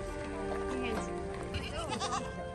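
Goats bleat repeatedly close by outdoors, their wavering cries overlapping with each other and with people talking nearby.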